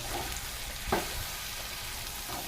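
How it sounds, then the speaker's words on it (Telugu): Brinjal pieces for a dry vankaya fry sizzle steadily in a pan while being mixed, with one sharp scrape of a spoon near the middle; close, even frying sound, no speech. "అది వేసిన తర్వాత మళ్ళీ బాగా కలపాలి"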